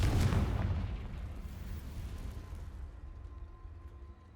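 Confringo spell explosion in Hogwarts Legacy, a single heavy booming blast at the start that decays into a long rumbling tail fading out over several seconds.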